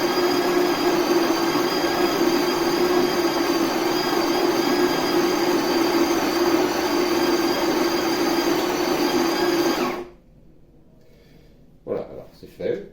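A Philips Barista Brew semiautomatic espresso machine runs with a loud, steady mechanical drone and whine for about ten seconds, then cuts off abruptly, leaving quiet with a few brief clatters at the end.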